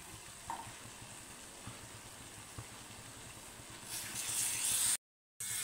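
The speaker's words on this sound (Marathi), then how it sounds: "आता याच्यामध्ये या वांग्याच्या फोडी घालू।" Eggplant pieces fry in hot spiced oil for a vegetable dish, a steady sizzle that swells into a louder hiss near the end before cutting out abruptly.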